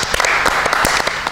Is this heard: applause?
yes